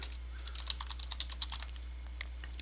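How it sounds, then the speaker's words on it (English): Vim commands are typed on a computer keyboard, escape and then colon-style keystrokes, giving a quick run of soft, close key clicks, fairly faint, with a short pause before a last few taps. "we will press the escape key and then we will type colon NOH"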